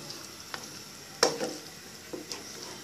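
Sweet and sour chicken sauce thickened with cornstarch sizzles softly in a pan on raised heat, with a low continuous frying hiss broken by a few sharp scraping clicks as it is stirred.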